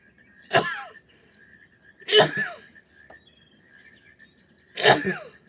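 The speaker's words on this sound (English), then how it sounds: "Oh, I'm gonna sneeze." Three sharp, explosive sneezes, a couple of seconds apart, close and fairly loud, over a faint steady hum.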